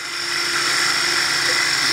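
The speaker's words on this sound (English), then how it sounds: "So I'm going to drill" A power drill drilling into wood whines steadily at high speed, spinning up then holding a constant pitch up close, with no talking.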